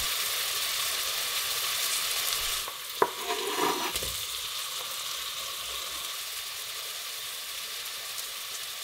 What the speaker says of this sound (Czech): tak přidám pokrájenou slaninu, ze které vypeču tuk